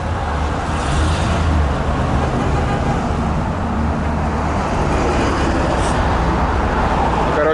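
A Maybach limousine pulls up and parks amid a steady rumble of street traffic, its low engine drone mixing with passing vehicles while no clear voices stand out.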